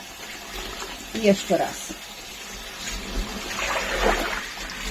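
Water running from a tap as dyed wool yarn, coloured with kitchen food dyes, is rinsed until the water runs clear; a steady wash of running water with brief splashes, under a voice speaking.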